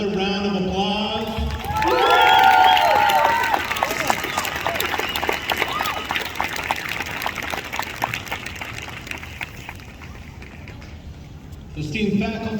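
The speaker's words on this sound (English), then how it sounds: "Let's give him another round of applause." Applause and cheering fill a high school graduation ceremony, starting with a voice over the crowd, then a long run of dense clapping with scattered whoops that thins and fades toward the end before talk resumes.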